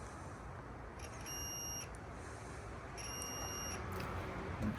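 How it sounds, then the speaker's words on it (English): An Opel car sounds two separate electronic beeps of about half a second each, roughly two seconds apart, over quiet background hiss. "Oh, more beeping."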